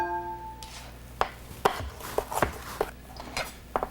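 Knife slicing a vegetable into long thin strips on a cutting board, a handful of crisp, irregular chops and taps up close, with no talking.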